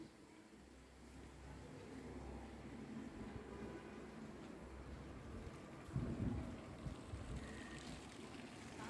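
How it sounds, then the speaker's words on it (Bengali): Heavy daytime rain pours down outside, heard from indoors as a faint, continuous hiss with a low rumble that swells briefly near the end. "আর বাইরে মুষলধারে বৃষ্টি হচ্ছে সারা দিন"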